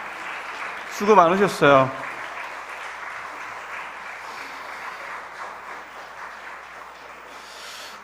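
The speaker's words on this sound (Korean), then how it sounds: "다시 한번 박수로 또 하나님을 향해 영광의 박수를 드리겠습니다" Church congregation clapping at a district worship service, a broad wash of applause running throughout under a brief spoken thanks near the start and fading gradually toward the end.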